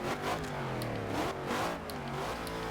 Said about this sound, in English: But man, this car just sounds awesome. I love the sound of that V8.